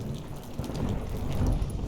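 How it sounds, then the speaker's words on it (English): A storm at sea on a boat, with steady heavy rain and a low rumbling of thunder and wind, loud and continuous through a brief stretch with no talking. "Didn't bargain for no storm."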